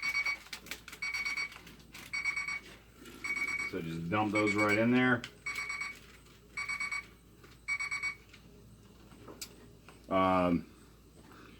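A digital timer beeps in repeated rapid bursts during home beer brewing, loud and close, continuing in a steady pattern while someone speaks over it briefly.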